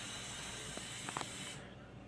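A pressure cooker lets off a steady, faint hiss of steam in a kitchen while a cauliflower pizza crust cooks, with a few soft taps over it before the hiss dulls near the end.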